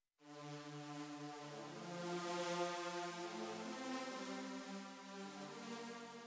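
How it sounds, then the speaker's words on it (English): A sustained synth chord processed through the Multiband Tremolo stereo plugin by Melodic Productions, rich stacked harmonics shifting pitch partway through with a faint rhythmic pulsing, quiet and alone. "I added this this plugin called Multiband Tremolo by Melodic Productions."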